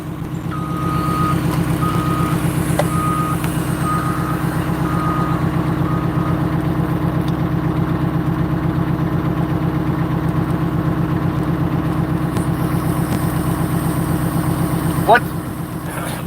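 A truck with a 5.9 Cummins diesel idles loud and steady throughout, its low rumble joined by repeated reversing beeps early on and a brief squeal near the end.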